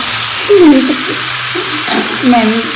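Tomatoes frying in a pan for tomato curry: a steady close sizzle with soft stirring scrapes, while someone talks over it.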